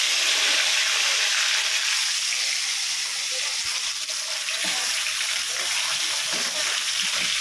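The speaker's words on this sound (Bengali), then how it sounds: "তো এবার মাছগুলোকে ভাজবো" Katla fish seasoned with salt and turmeric frying in oil in a wok, a steady broad hiss that stays loud and close throughout with no talk.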